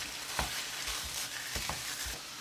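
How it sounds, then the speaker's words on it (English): Ground meat sizzles and fries in a deep stone skillet, a steady hiss broken by several scraping stirs of a utensil; no talk over it. "we're starting off with a pound of meat, and Sheila's going to just get that chopped up and get going here"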